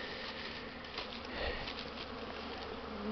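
A dense, steady hum of many honeybees buzzing all around on their first spring cleansing flight on a warm day, some passing close by, with no talking.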